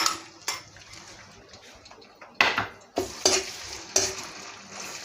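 Coconut milk and southern Thai curry paste stir-fried together in a pan for spicy mussel curry, quiet sizzling punctuated by several sharp utensil clanks and scrapes against the pan.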